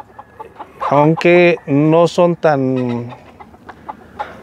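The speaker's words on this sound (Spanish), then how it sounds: "Un gallo giro, patas amarillas y cresta de sierra." A gallo giro rooster with yellow legs and a serrated comb gives a run of loud, close, harmonic clucks and squawks in quick bursts. A brief spoken word comes near the end.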